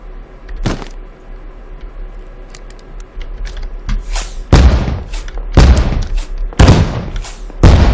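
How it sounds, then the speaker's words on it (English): Fireworks explode in several loud broadband bursts during a forest outing, with sharp booms arriving at irregular intervals over faint background noise. "Oh, fireworks."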